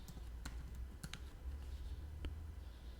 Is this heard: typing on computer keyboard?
yes